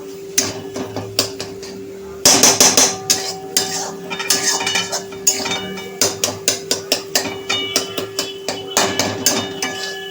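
A spatula clatters against a pan while egg bhurji is broken up and mixed, giving quick, loud, rhythmic metallic taps in bursts, close by with no talk.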